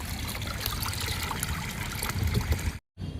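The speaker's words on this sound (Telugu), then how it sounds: "ఈ లిక్విడ్ ఫర్టిలైజర్ ఇప్పుడు మొక్కలకి ఇచ్చేద్దాము" Homemade liquid fertilizer made from rice-rinse water, lentil-rinse water, soaked-almond water and beetroot trickles and splashes steadily onto garden plants, close and continuous, stopping briefly near the end before resuming.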